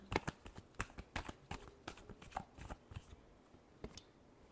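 Tarot cards shuffled by hand in a rapid series of crisp riffling snaps and taps, close and fairly quiet, with no voice over them.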